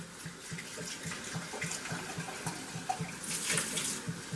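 Hot water streams steadily from a kitchen tap into a sink, a soft continuous splashing rush that swells slightly near the end.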